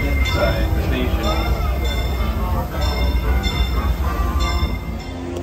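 Disneyland Railroad train arriving at Main Street station: a steady rumble of rail cars with metallic clinks and squeals runs throughout, while a voice makes announcements over it.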